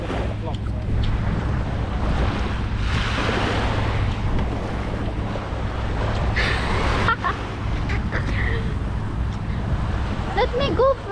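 Ocean waves break and wash ashore on An Bang Beach in Hoi An, a loud, continuous surf roar with wind buffeting the microphone and a few brief shouts near the end.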